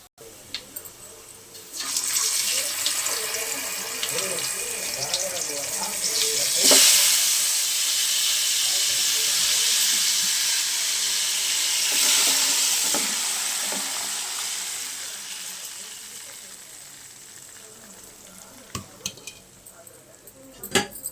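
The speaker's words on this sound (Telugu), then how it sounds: "పులుసు మొత్తాన్ని తిరగమాతలో వేసేసాం" Tamarind fish curry broth meets a hot tempering of fried onions, bursting into a loud hissing sizzle that slowly settles, with a few sharp clinks of a pot and spoon near the end.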